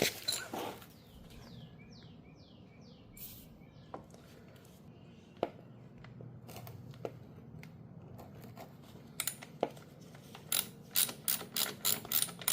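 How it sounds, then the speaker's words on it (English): A ratchet fitted with an attachment turns a hard-to-reach bolt while rear controls are installed on a Harley-Davidson Sportster S, producing quiet clicking pawl strokes in irregular bursts that grow quicker and louder toward the end, close up with no speech. "I just have my ratchet with the attachment on there."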